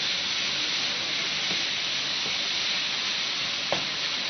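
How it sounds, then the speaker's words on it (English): Thin-sliced cheesesteak meat frying on a hot griddle, a dense continuous sizzle with a few light spatula taps, loud and close with no voices. "You're going to cook this around until all of the steak of meat is nicely cooked through."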